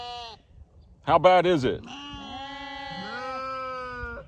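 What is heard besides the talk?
sheep bleating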